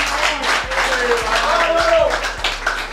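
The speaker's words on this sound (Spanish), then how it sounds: "Yo quiero que me le den un aplauso a este luchador." A studio audience claps for a wrestler on a television show, giving moderate, scattered applause with a few sharp taps, while voices and other background sounds mix in underneath.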